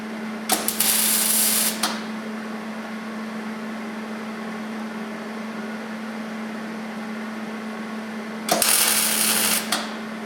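Two bursts of arc noise from tack welding turn signal tabs on a Polaris Ranger 900, each lasting about a second, near the start and near the end, with a steady hum between them.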